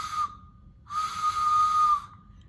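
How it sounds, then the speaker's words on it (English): A toy train whistle blown twice, a short toot then a longer steady one, breathy and shrill, close up with no talking. "Look, everyone, I've got my train whistle."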